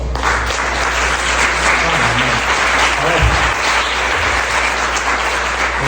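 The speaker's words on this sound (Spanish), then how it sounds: "¿Por qué le damos un fuerte aplauso?" A church congregation at a Sunday service breaks into loud, sustained applause, a dense wash of clapping that holds steady for several seconds.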